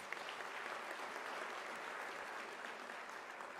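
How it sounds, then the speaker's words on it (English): Sustained audience applause at a UNISA autumn graduation ceremony: an even, unbroken roar of many hands clapping, heard from a distance in a large venue. "I think you need to give him a round of applause."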